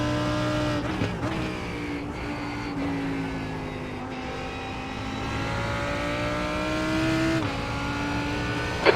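LMP2 prototype race cars close in during an IMSA racing video game in Canada, engines whining and rising in pitch as they approach and pass nearby, loud and continuous with shifting tones.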